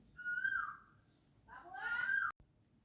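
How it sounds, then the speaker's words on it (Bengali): An Asian koel calls beside a village pond: two drawn-out, rising whistled phrases with a short gap between them, moderately faint and alone. "কোকিল ডাকছে"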